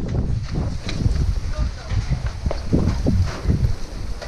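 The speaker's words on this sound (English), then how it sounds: "It is so windy." Wind gusts outdoors near an open door at home, a steady rough rumble and hiss that swells and eases throughout, with a person talking over it.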